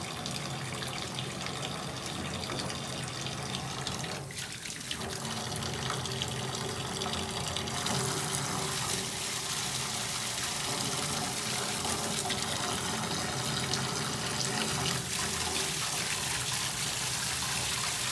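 Water runs steadily from a tap into a sink for the full stretch, a continuous broadband gush that stays loud and even throughout, with no talking over it.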